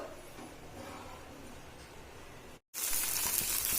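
Rava dosa batter with ginger hisses and sizzles on a hot pan, a close, continuous frying sound that grows louder and brighter near the end.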